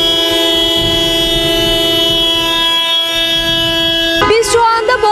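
A steady, loud chorus of car horns and sirens sounds on the Bosphorus Bridge in Istanbul as drivers stop for a remembrance silence, with a sharp shift in pitch near the end.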